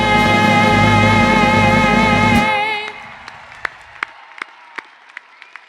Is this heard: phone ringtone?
no